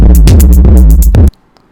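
A loud trap beat plays, with booming kicks and a deep bass line under crisp hi-hat rolls, and then stops abruptly into near silence.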